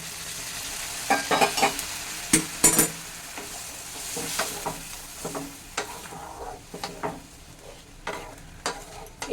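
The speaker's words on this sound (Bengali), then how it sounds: "পাশের গ্যাস ওভেনে আমি একটু জল গরম করে রেখেছিলাম সেই জলটা এর মধ্যে দিয়ে দিচ্ছি" Liquid hitting a hot pan for a prawn dal, with turmeric and salt, set off a broad sizzle under repeated scraping and stirring strokes, fairly close and moderately loud, with sharper clinks early on.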